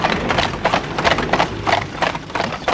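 Team of carriage horses of mixed breeds clip-clopping at a driving championship, a quick steady run of loud close hoofbeats with no talk.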